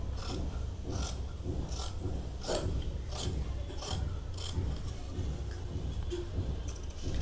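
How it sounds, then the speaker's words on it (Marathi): Scissors cutting blouse lining fabric laid over a paper pattern, a series of rhythmic rasping snips, close but fairly quiet, with no talk. "अशा प्रकारे आपण हे दोन्ही पार्ट कट करून घेऊ."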